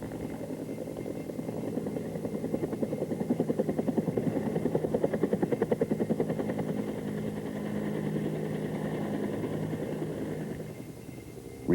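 Simulated Bell AH-1 Cobra helicopter climbing after passing effective translational lift, a steady rotor drone with rhythmic blade chop swelling slightly midway, continuous and alone.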